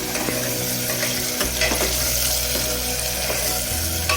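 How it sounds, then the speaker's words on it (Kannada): Onions frying in oil until browned for bisi bele pulao, a steady close sizzle with occasional stirring scrapes and a low hum underneath, no talking. "ಸ್ವಲ್ಪ ಬ್ರೌನ್ ಕಲರ್ ಬರೋವರೆಗೂ ಎಣ್ಣೆಯಲ್ಲಿ ಬಾಡಿಸ್ಬೇಕು"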